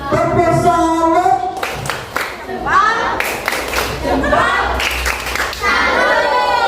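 A class of children claps the 'tepuk salut' rhythmic clap in a classroom, sharp grouped hand claps in a patterned rhythm, loud and close, with children's voices chanting and speaking between and over the beats.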